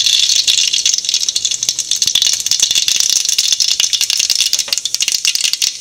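Mustard seeds spluttering and popping in hot oil in a pan while making Kerala-style coconut chutney, a dense, loud, continuous crackle of sharp pops filling the whole stretch, with no voices.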